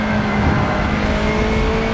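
A racing car in Forza Motorsport 7, driven with ABS switched off while braking hard into a corner. A loud, steady engine roar carries a high tonal whine, with a faint tyre-squeal edge and no talking.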